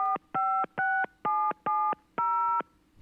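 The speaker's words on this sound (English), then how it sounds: "Boy, that touch tone sounds flat." Touch-tone telephone keypad tones heard during a Baltimore Orioles at Texas Rangers baseball broadcast: six distinct steady dual-tone beeps in an even rhythm, clear and moderately loud over a faint low background hum, with no talking.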